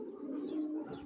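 A racing pigeon gives a single soft, throaty coo, close and clear, rolling for about a second against a quiet background.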